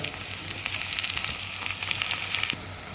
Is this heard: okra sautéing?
yes